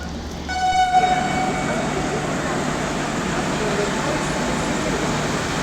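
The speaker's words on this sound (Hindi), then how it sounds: "ये ट्रेन आई है बांद्रा अजमेर स्पेशल फेयर।" A Bandra–Ajmer special fare train pulls into an Indian station, opening with a loud horn blast and then a steady rolling rumble of wagons close by, with a voice speaking over it.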